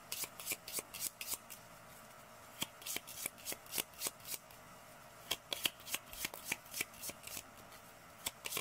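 A deck of cards being shuffled in quick, soft riffles and taps, close but quiet, repeating in irregular bursts with brief pauses between them.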